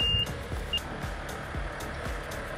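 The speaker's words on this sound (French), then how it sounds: "J'adore ce bruit de bip bip." Short electronic reversing beeps sound from a truck delivering soil to a construction site, a couple of clipped tones over low engine rumble, moderately distant and fairly faint.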